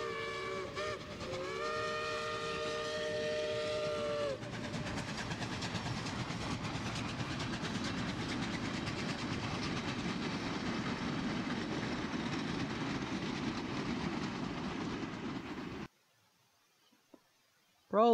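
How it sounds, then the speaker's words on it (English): A Pennsylvania Railroad steam locomotive, number 1361, rumbles steadily and loudly with its steam whistle sounding early on, then cuts off abruptly near the end. "1361 is perhaps my favorite Pennsylvania Railroad locomotive."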